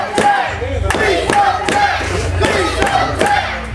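Wrestling fans at an indoor bout shout and yell in a loud, sustained roar, with repeated sharp bursts of noise rising over the steady crowd din.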